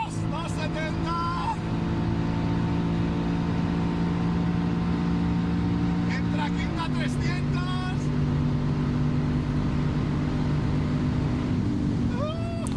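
A Mercedes-McLaren SLR engine drones loudly at high speed, its pitch climbing then falling with a gear change, heard from the cabin while a man calls out speeds over it.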